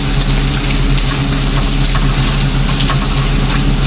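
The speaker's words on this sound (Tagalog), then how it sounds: "Gisa lang ulit mga tol." Garlic and onion sizzle loudly in a hot pan, a dense, continuous frying hiss close up with faint stirring scrapes and no talk.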